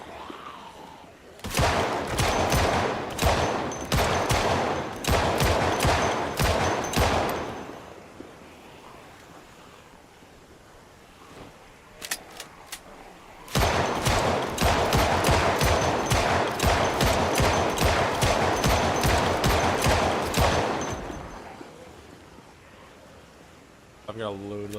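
Rapid gunfire in Project Zomboid, the zombie survival game, fired in two long loud volleys of evenly spaced shots with a short pause between, plus a brief extra burst; a player's voice comes in faintly around it.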